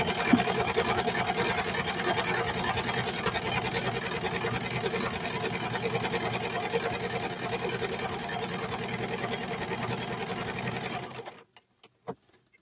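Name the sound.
sewing machine stitching pants pieces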